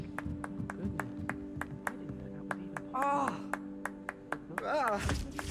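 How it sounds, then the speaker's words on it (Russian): Regular sharp claps ring out in Hogwarts Legacy, about two per second, and they continue under in-game character voices and moans. "звуки хлопков одновременно с тем, как тот стонет, очень странно смотрится"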